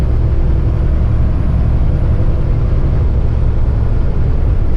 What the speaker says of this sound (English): the poor truck works really hard today because of the wind and the weight